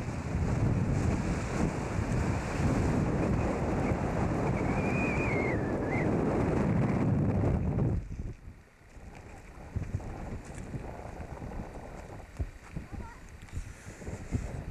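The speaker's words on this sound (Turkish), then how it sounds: "Rüzgar var." Wind buffets the microphone on a road near Göreme and Ürgüp in Cappadocia, a loud, steady low roar for the first eight seconds that then drops to lighter, gusty rumbling.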